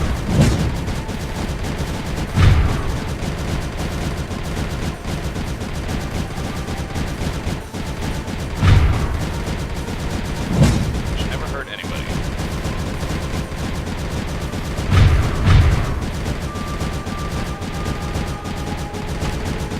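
Cannons firing in the Creeper World 3 strategy game, heard as a few heavy low booms spaced several seconds apart over a steady game background, with a voice talking throughout.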